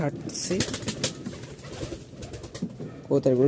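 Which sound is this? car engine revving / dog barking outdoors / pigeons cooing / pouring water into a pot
pigeons cooing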